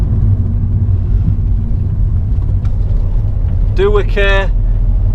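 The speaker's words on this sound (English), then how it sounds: "What a lovely day as well to have a drive in a fishing van, eh?" Engine rumble and road noise fill the cab of a modified Ford Transit Connect camper van on the move, a low steady drone; someone speaks briefly near the end.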